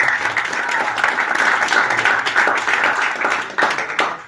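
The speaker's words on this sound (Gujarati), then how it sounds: "તો એ હિસાબે તો આપણા બધા માટે એકવાર તાળીઓ થઈ જાય." Audience of young men at a silent meditation retreat breaking into dense, sustained applause, loud and close, with many overlapping claps continuing steadily throughout.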